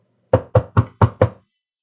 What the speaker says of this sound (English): Lieutenant Drew heard a knock on the door.